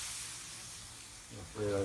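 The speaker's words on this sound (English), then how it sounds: "you want to spray on the coals too, because I want that smoke with a lemon flavor" A steady hiss of lemon juice sprayed onto hot grill coals, with a louder burst of sizzling and a brief voice near the end.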